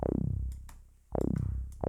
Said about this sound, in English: and that is like a little like acid type of bass almost.